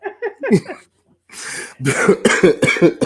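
Several sharp, loud coughs up close, followed by a pause and then a longer burst of harsh coughing and throat clearing.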